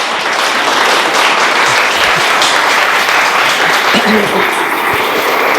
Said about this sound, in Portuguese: Um imenso aplauso